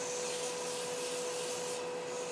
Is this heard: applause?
no